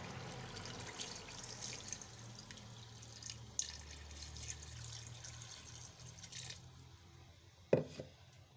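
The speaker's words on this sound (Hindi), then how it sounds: "अब मैं इसमें 4 गिलास पानी के डाल दूँगी" Four glasses of water pour into a cooking pot of fried chicken and potatoes in a steady splashing stream, close by, followed by a few drips and a sharp clink near the end.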